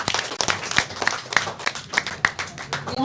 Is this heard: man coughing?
no